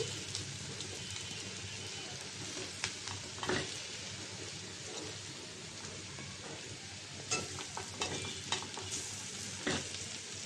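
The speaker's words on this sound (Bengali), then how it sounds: "এই যে একদম লাল লাল করে ভেজে নিয়েছি" Small potatoes frying in mustard oil, a steady close sizzle with occasional stirring clicks and scrapes rising above it, no voices.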